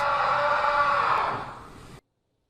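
A Mariners fan screams in anguish after his team loses the ALCS series, a single loud sustained cry lasting about two seconds, tapering slightly before cutting off abruptly, with no talk.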